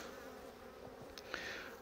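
Honey bees on a sparse hive frame buzz in a soft, continuous drone, quiet and close, with a few individual bees passing nearby.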